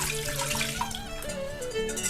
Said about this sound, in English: Now, I'll simply pour the brine into there.